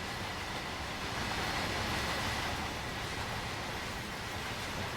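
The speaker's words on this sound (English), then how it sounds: "Empty black train there." A passing train in the Train Sim World 5 simulator on London's Mildmay Line, an empty black freight service of container flats, gives a steady, loud broadband rumble and rush with no breaks for about five seconds.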